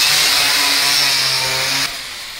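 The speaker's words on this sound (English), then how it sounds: "Let me just sand this off." A power sander runs loud and steady against metal, grinding off tar, with its whine dropping away as it slows near the end.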